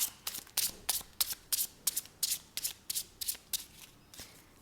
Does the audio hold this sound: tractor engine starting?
no